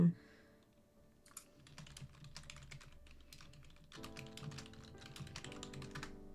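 Fingers type on a computer keyboard in quick, uneven bursts of clicking keys, close and moderately loud, with a thicker flurry of keystrokes in the later half.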